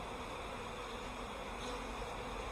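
Worker honeybees buzz steadily inside a hive as they tend a queen cell, a dense continuous drone close to the microphone, with no voices.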